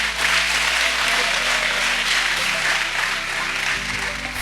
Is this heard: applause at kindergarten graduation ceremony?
yes